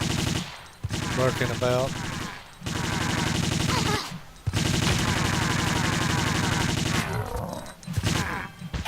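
Bursts of rapid Uzi fire ring out in a Tomb Raider level set among snowmen enemies, loud sustained volleys separated by short pauses, with a voice speaking briefly over the shooting.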